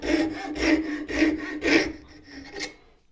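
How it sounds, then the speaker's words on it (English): A coping saw cuts through wood with steady, rasping back-and-forth strokes, four or five loud, even pulls close by, then trailing off into lighter scraping at the end. "Coping saw is a fantastic tool."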